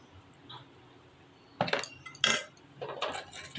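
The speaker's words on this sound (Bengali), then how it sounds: "একটু নুন হলুদ দিয়ে নাড়াচাড়া করে নেব।" Salt and turmeric being stirred into food in a pan, heard as a few scattered metallic clinks and scrapes of a utensil against the pan, quiet and close, after a near-silent start.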